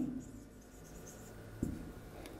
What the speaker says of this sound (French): On peut écrire banane,